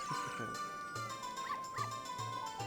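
A dog in Zelda: Ocarina of Time on the N64 gives short, repeated barks and yips over a steady game music and ambience bed, several brief calls spaced across the moment.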